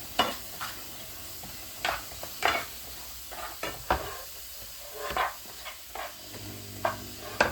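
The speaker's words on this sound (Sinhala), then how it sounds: "අපි මේක ටිකක් බෙදෙනකල් කලවම් කර ගන්නවා." Spoon scraping and stirring through eggplant curry in a pan, scattered knocks and scrapes at an irregular pace, close and fairly quiet, with no talking.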